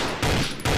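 Two sharp sniper rifle shots crack out from a mobile first-person shooter game, each a loud, sudden blast with a brief ringing tail, evenly spaced less than half a second apart.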